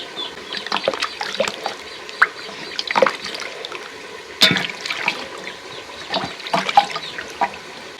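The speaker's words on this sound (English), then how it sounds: "I have some avocados here. 5 medium-sized avocados. I'll add them in and wash them." Five medium avocados get rinsed under running water, a continuous close splash and trickle with irregular knocks and splashes as the fruit is turned and handled.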